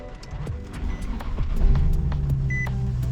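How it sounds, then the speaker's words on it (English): Nissan 370Z engine starting for the first time, a cranking chatter that catches and settles into a steady, rising idle rumble, close and fairly loud. "Oh man, first startup on a 370Z."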